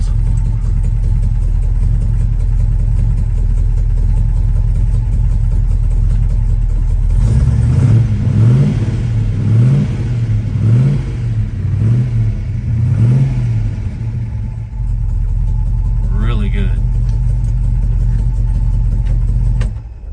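1967 Chevelle SS396 with its original L78 engine and factory exhaust manifolds, a loud, deep idle rumble that breaks into a series of rhythmic revs in the middle, then settles back to a steady idle with one brief blip.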